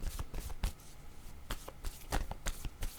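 Playing cards shuffled by hand for a tarot-style card reading, with a run of quick riffling and snapping bursts repeating irregularly over a few seconds, close and fairly loud, no voices.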